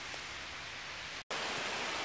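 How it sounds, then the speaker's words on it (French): Heavy rain pouring onto a tent shelter at a woodland bivouac, a dense, even hiss of drops drumming on the fabric, steady and close, broken only by one brief silent gap midway. "Enfin, il pleut bien."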